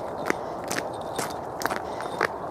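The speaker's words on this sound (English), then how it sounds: "It's a little bit crunchy and a little bit slippery underfoot." Footsteps crunch on soft powder snow along a canal path, a steady close walking rhythm of about five crisp, gritty steps.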